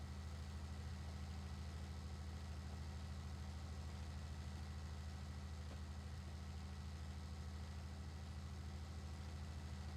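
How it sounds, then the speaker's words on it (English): Tractor engine idling in the Farming Simulator 19 video game, a steady low droning hum with an even rumbling pulse, constant and unbroken for ten seconds with no other sounds. "Come on, little tractor."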